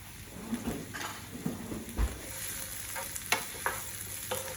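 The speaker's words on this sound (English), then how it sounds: "Temperature's up on the oil, we're getting a little bit of sizzle there already" Two onions sizzle and crackle in hot oil with a steady hiss, punctuated by occasional stirring clicks and scrapes of a utensil, for a root vegetable hash.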